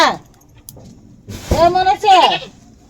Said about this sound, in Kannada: ಮರಿ ಒದರ್ತಾವ ಆಡು ಒದರ್ತಾವ